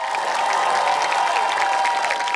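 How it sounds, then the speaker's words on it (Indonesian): A studio audience applauds at a televised comedy news show, a dense continuous wash of clapping that holds steady throughout. "Tepuk tangan dong."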